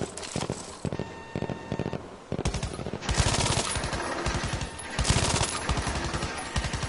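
Belt-fed machine gun with a 250-round belt firing in Battlefield V, loud close sustained bursts of rapid automatic fire separated by brief pauses, with no talk.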